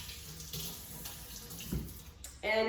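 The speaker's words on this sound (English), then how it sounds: "I'm gonna give my hands a little rinse" A kitchen sink tap running briefly and faintly while hands are rinsed under it, with a voice starting just at the end.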